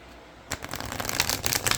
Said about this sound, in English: you can always do the good old hand over hand shuffling of the deck